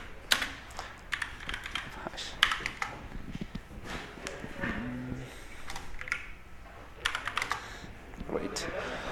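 Fingers type commands on a computer keyboard while setting up a Raspberry Pi cross-compiling toolchain, giving bursts of quick clicky keystrokes with short pauses, close and moderately loud, with faint talk at moments.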